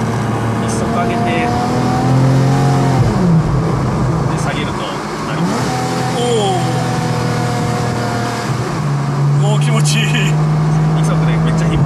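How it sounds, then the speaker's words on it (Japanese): A Porsche 911 Carrera S Cabriolet with a PDK gearbox, held in first gear with the top down, revs up and down in several rising and falling sweeps, loud and close, while people talk over it. "1 速でめっちゃ引っ張りまくって1速にするとバクバクなりますね"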